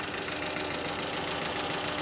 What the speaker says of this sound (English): We're just gonna let it rev for a little bit and see what happens.